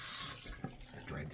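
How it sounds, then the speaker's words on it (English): Cold water runs from a tap into a sink as a kamisori straight razor is rinsed off, a steady close splashing stream with a brief clatter midway. "let me rinse off. Cold water."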